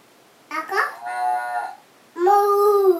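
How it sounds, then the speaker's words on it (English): Cow mooing in an animal-sound identification game, heard as clear, close lowing calls, a wavering first moo then a longer steady one after a short pause. "Cow."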